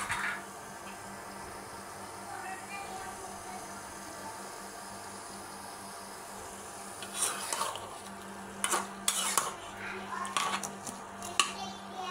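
Liver bhuna being stirred in a pan, with scattered scraping and clinking of the spoon against the metal coming in bursts, mostly in the second half, over a low steady hum and faint sizzling.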